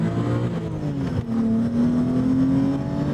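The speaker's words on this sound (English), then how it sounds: "What a great engine. I love this engine." 1991 BMW M5 E34 engine revs smoothly, a close, steady mechanical drone that rises gradually in pitch, with a brief dip before climbing again.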